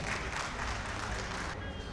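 Audience at a kavi sammelan poetry gathering in Lucknow applauding to welcome a poet, a dense, continuous wash of clapping that holds steady before thinning near the end.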